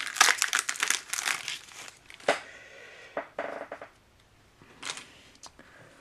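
Magic: The Gathering Betrayers of Kamigawa booster pack wrapper crinkled and torn open, sharp close crackling bursts in quick clusters that thin into sparse rustles.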